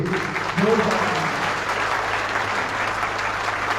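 A village crowd at a political rally for former Union minister Anurag Thakur in Badagaon breaks into loud, sustained clapping, with a brief voice near the start and a low hum running under it.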